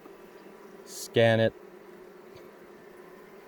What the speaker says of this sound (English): there's actually a lot of bees here